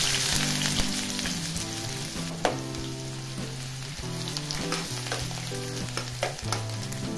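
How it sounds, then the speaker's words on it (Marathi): Onion fries in oil in a pan with cumin, cardamom and cinnamon, a steady sizzle with stirring scrapes heard under background music. "कांदा परतून घ्यायचा आहे गोल्डन कलर होईपर्यंत"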